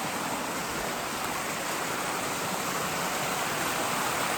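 Mountain waterfall in Vietnam's Central Highlands, a steady, close, dense rush of falling water that holds constant throughout without any voices.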